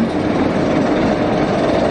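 Roller coaster train at Alton Towers rumbling along its track, a loud continuous clattering roar held steady throughout, close by.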